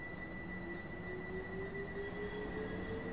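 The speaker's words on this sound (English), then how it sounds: "That other train's taken off." A train runs along the East Coastway line in Train Sim World 2 on PS4, with a steady rumble of rolling wheels and a thin, rising squeal carried over it. The sound is continuous and moderately close, with no talking.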